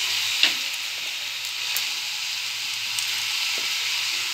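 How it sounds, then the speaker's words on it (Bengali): Turmeric, ground cumin and coriander tipped into hot oil, giving a steady close sizzle and frying hiss with a few light clinks of a spoon against the pan. "এবার আমি মশলাগুলো দিয়ে দেবো। প্রথমে দিচ্ছি হলুদ"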